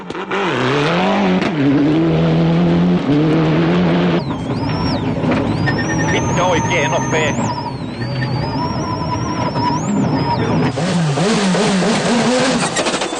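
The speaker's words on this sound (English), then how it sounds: "Leaving the beaches behind, the cars headed for the hills." Several WRC rally cars accelerate away at the 2001 Cyprus Rally, their engines revving loud and close, rising and falling in pitch with gear changes under continuous commentary-like voice.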